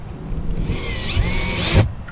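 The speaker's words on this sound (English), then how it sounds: "we're gonna have to drill a hole for hitting metal" A power drill bores a hole through metal while a roof fan is installed on a 2019 Coachmen Freelander 26RS RV, a steady close whine lasting about two seconds that rises in pitch near the end before cutting off.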